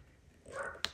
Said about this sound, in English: my neighbor's dog, and they are barking and playing with each other through the fence